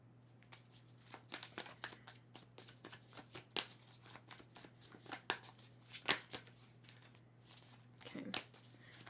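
Tarot cards being shuffled by hand, a rapid run of papery riffles and snaps with irregular bursts, close and fairly quiet over a steady low hum.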